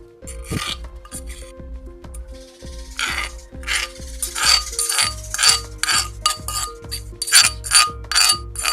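Glass bottle clinking repeatedly alongside bright metallic clangs and dings, a busy irregular series of close, sharp hits with no talking.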